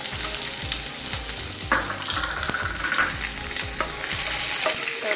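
Onions sizzling loudly in hot oil with curry leaves for okra masala, a steady crackling fry broken by repeated scraping clacks of a spoon stirring the pan, close and continuous.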